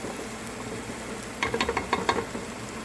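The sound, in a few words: minced garlic and onion cooking in a pan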